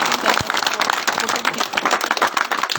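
Enthusiastic applause from an audience at a village gathering honouring local panchayat members, a dense, continuous wash of clapping filling the whole moment with steady loudness and no talk over it.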